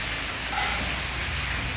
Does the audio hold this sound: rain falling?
yes